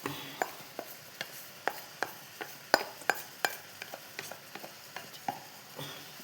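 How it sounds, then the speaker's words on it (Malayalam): A spoon stirs leaves into cooked jackfruit seeds in a pan, making soft rhythmic scraping taps and light clatter roughly every half second, faint and close with no talking. "എന്നിട്ട് എല്ലാം കൂടി ഇളക്കിയിട്ട് അടി അടച്ച് വെക്കാം."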